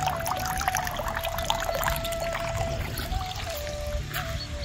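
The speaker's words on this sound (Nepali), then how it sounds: "पानी धारा कसरी बनाएको छ नि," Water trickles and splashes steadily along a man-made stream channel in a botanical garden in Tasmania, a continuous close pouring flow with outdoor ambience and no talk.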